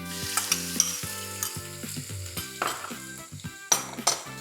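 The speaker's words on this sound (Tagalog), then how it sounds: "let's just stir fry" Shrimp seasoned with salt and pepper stir-fry in a hot pan, a steady sizzle with repeated metal clatter and scraping of the utensil against the pan, close up, under tonal background music.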